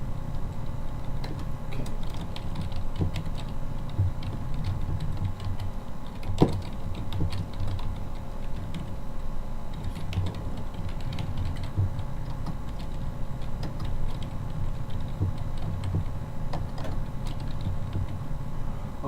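Keystrokes on a computer keyboard as a username, a family restoration email address, is typed into a login field, forming a soft, steady run of clicks over low room hum with no voices.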